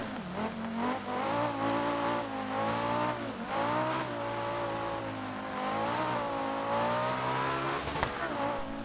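Turbocharged 2.1-litre five-cylinder Audi Quattro rally car in the Dirt Rally video game, its engine droning loudly and steadily with rising and falling revs and a sharp blip near the end, no voices.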